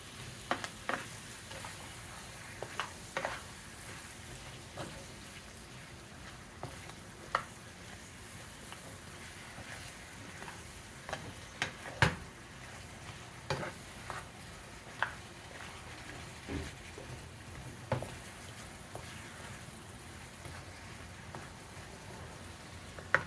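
Coated apple slices simmering in a pan for restaurant-style fried apples, a faint, even sizzle with scattered soft pops and occasional light stirring taps, with no voices.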